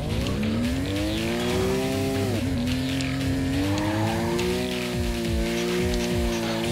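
A race car in the Ridge Racer Unbounded racing game roars steadily, its engine pitch climbing, dipping sharply at a gear change and climbing again, with tire squeal and skidding mixed into the continuous loud drive.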